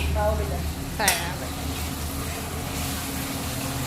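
Tomatoes fry in oil for pav bhaji, a steady loud sizzle throughout with a brief clatter of stirring, and a voice briefly speaking at the start.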